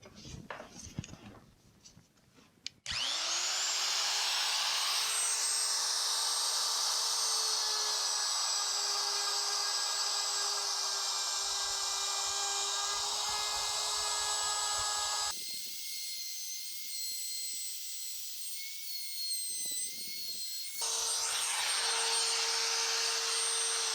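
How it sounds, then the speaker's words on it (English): An electric router fitted with a half-inch bit cuts redwood for a planter box post, a steady high whine running long and continuous, with a short pause where the motor drops away before spinning up again. "now I'm going to use the router to start taking the material out"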